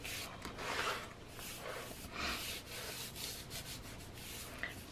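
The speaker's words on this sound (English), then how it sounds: "I'm going to give that a little bit of a burnish." Rhythmic rubbing strokes of a burnishing tool across a paper scrapbook album cover, close and steady, repeating in soft scraping sweeps with no voices.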